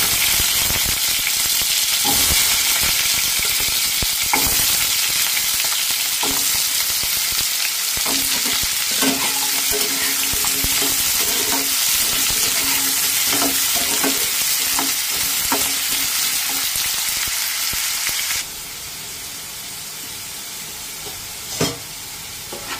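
Cut potatoes fry in hot oil, a loud, dense, continuous sizzle with scattered crackles and occasional stirring knocks, dropping to a quieter hiss near the end.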